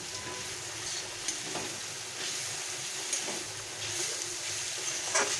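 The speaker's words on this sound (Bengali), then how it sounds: "আমার কুমড়ো শাকটা একদম ভাজা হয়ে গেছে। এবারে আমি এটাকে উঠিয়ে নেব।" Pumpkin leaves frying in a pan, giving a soft, steady sizzle with small crackles and stirring sounds, quiet and close with no talk.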